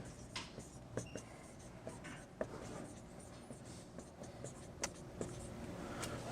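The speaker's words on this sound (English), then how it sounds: "so let me write it down here" Chalk strokes on a board during an abstract algebra lecture on cyclic groups, scattered taps and short scrapes at an irregular rhythm, quiet over a low steady hum of room noise.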